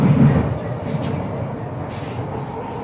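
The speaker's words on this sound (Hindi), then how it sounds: "बाकी देखिए अपनी मेट्रो यहाँ रुकी है एक स्टेशन पे" Delhi Metro train, a steady moderately loud rolling rumble heard from inside the car, strongest at the start and then settling into an even hum with faint clicks.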